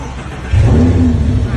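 A car engine cranks and catches, then idles steadily and close by, started with a newly cut duplicate key. A voice is heard over it.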